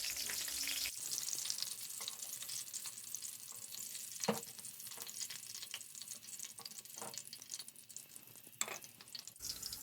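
Chicken gilafi kebabs shallow frying in oil in a pan, giving a steady close crackling sizzle with a few sharper pops and scrapes, fairly quiet and with no talking.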